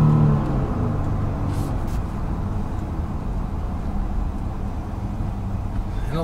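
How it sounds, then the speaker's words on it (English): Steady low engine induction drone fills an SUV cabin while driving, a constant rumble with no sharp revs, heard from inside the car. "lot that you notice is the induction noise from the engine"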